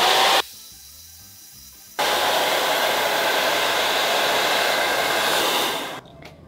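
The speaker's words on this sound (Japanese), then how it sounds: "ちょっとこれで乾かしていきますね" Hair dryer drying hair in a salon: a loud, close, steady blowing whir that starts, cuts briefly to a low setting, then runs at full power before switching off near the end.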